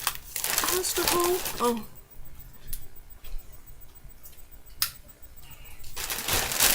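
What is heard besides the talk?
plastic shopping bag rustling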